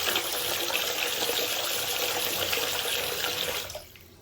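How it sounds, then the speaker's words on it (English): Tap water pours steadily into a blocked bath, a constant splashing rush that cuts off abruptly near the end, leaving near quiet. "So I've run some water in."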